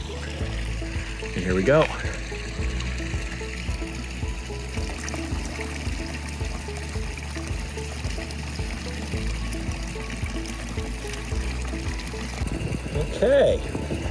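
Diluted acid pours from a container into a swimming pool as a thin, continuous trickle and splash, steady throughout, with a person talking over it.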